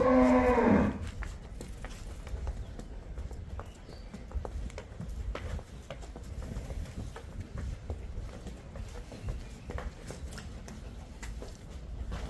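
One cow on a dairy farm where dairy cows are kept for sale gives a loud, close moo at the start, then softer barn sounds with faint hoof clops and shuffling follow.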